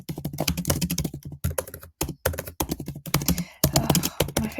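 Rapid typing on a computer keyboard, dense clacking keystrokes in quick bursts with brief pauses, close and clear.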